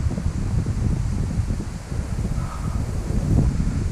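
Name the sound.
wind blowing on a fishing trip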